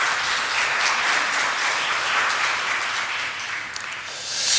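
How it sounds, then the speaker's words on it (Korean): A church congregation at a Sunday worship service applauds the choir, with dense, sustained clapping from many hands that fills the room and swells slightly at the end. "우리 찬양대에게 큰 박수 부탁드립니다."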